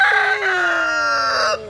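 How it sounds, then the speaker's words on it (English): A single rooster crows close by, one long drawn-out call that tapers off after about a second and a half. "the roosters have decided to be very close to us, so we're going to hear them too today"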